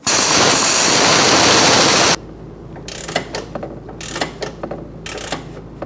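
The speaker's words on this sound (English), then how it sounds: "so we had to change our impact gun to wrenches instead." Wrench work on a stuck nut on a 2002-2006 Honda CR-V rear upper control arm: after a burst of loud static-like noise, a series of close metallic clicks and ratcheting scrapes follows in uneven bursts.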